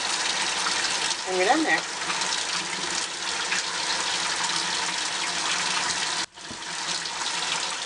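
A tap runs steadily while soap is rinsed from makeup brushes, a close, continuous gush of water that cuts out briefly near the end, with someone speaking briefly over it.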